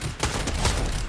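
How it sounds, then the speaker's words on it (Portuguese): Rapid bursts of video game gunfire coming from behind the player, dense and loud, with several sharp shots packed into about a second. "Mas tem alguém atirando atrás de você"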